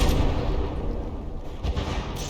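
Battleship guns firing amid explosions in a From the Depths battle, a dense continuous barrage of booms and blasts with no clear gaps, loud throughout.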